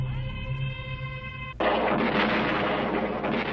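A sustained tonal drone breaks abruptly into a loud, dense roar of artillery barrage explosions in a Vietnam War setting, continuous heavy rumbling close and overwhelming.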